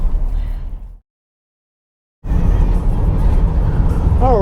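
A car drives through farmland near Chancellor, South Dakota, a steady road rumble heard from inside, broken by a full second of silence before resuming loud and continuous, with voices talking over it.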